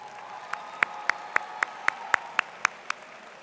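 Crisp, evenly spaced single claps, about nine in a steady rhythm, ring out over a faint wash of crowd applause at a university spring commencement ceremony honoring those who helped the graduates.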